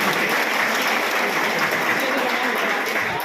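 An audience at a Guna press-building inauguration applauds to welcome a Union minister, with dense, steady clapping that holds loud and even throughout.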